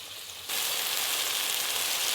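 Sajne flower posto simmering uncovered on low heat, a steady soft bubbling sizzle that turns suddenly louder halfway through and then holds even to the end.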